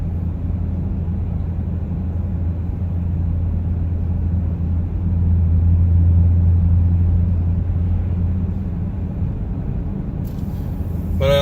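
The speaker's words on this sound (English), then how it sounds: "Just as happy cruising along at 40 miles an hour as it does when I was getting into the throttle a little bit earlier." A 2009 Cadillac CTS-V cruising at about 40 mph, its engine giving a steady low rumble with road noise, swelling slightly midway and then easing, with no talk over it.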